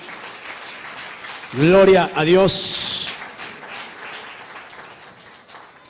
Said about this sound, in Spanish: Dele, por favor, un aplauso al Señor,